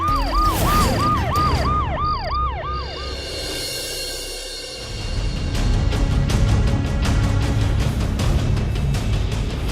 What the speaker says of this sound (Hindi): एम्बुलेंस आ रही है।